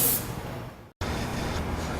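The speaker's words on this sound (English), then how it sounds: "And also spraying any seams that I find." RustCheck rust-proofing sprayed onto car body seams, a continuous close hiss broken by one brief stop before it resumes.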